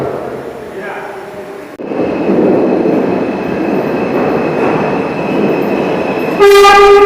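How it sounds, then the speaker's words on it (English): A New York City subway train pulls into the 163rd Street–Amsterdam Avenue station with a loud, rising rumble of wheels on rails. A strong horn blast sounds near the end, and a person talks briefly over the noise. "Next train arrival on this side will be arriving across over here."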